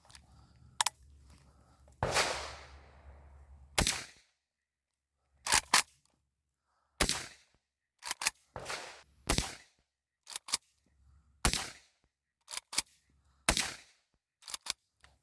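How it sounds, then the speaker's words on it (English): A Zastava M70 AK-pattern rifle is fired with the gas system shut off and cycled by hand. About a dozen sharp, loud single shots come at uneven intervals, each with a short decaying tail and quiet gaps between. "so let's fire a few shots like this"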